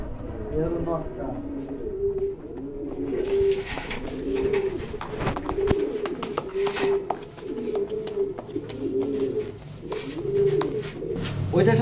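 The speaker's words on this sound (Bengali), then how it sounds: "এই হলো কবুতরটা," Racing pigeon of a foreign racer line at a loft coos in repeated low, rolling phrases, close and steady throughout, while someone talks over it.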